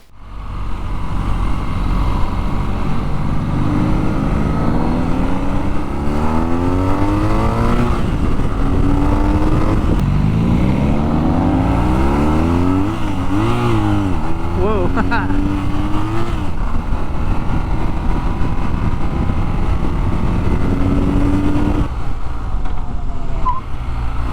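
A 2022 BMW R nineT motorcycle with a flat boxer twin engine, revving steadily up and down in loud, sweeping pitch changes close by, sustained for the whole stretch with no voices.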